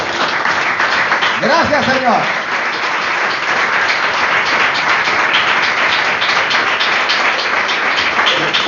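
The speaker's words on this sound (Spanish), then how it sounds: "Aplauso a la gloria de Jehová." A church congregation bursts into sustained applause, dense steady clapping filling the room with a voice briefly calling out over it.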